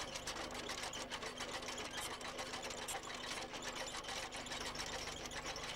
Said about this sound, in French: L'ensemble est mis en mouvement par des moteurs électriques d'une puissance totale de 1200 kW alimentés en 5000 volts